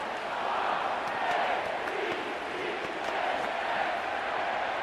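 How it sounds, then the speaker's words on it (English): Stadium crowd noise from a simulated Rams vs Ravens game in Madden 26, a broad, steady roar of cheering behind a play-by-play commentator's voice. "How about some applause for the defense there?"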